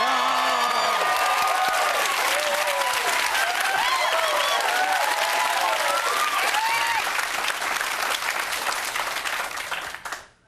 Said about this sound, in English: ask all the audience to make as much noise as they can and give me all the support